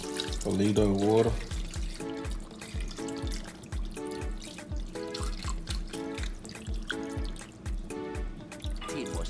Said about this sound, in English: Put a liter of water.